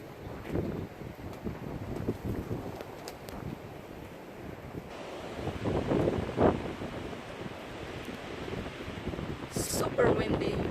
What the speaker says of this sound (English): Super windy right here.